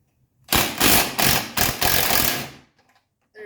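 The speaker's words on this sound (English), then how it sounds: "it's kind of hard to record this, but we get a wrench down in here like that" A 19 mm wrench works the upper control arm nut on a 1985 wagon suspension, making a loud, rapid burst of ratcheting clatter for about two seconds, then a brief faint rattle.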